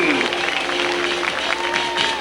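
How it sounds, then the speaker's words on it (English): An outdoor crowd at a lakeside water ski show in Wisconsin applauds steadily throughout, a broad wash of clapping from spectators with announcer-style sound. "let's have a big round of applause for our Lauderdale curtain"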